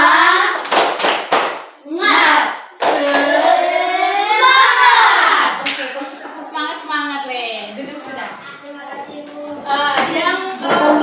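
A fifth-grade class at an Indonesian primary school claps a quick rhythmic spirit pattern, sharp bursts of hand claps up front giving way to children's voices chanting loudly together, with more claps breaking through near the end.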